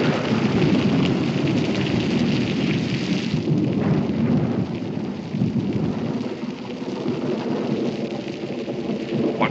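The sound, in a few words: thunder and rain of a storm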